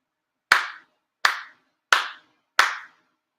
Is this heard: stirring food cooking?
no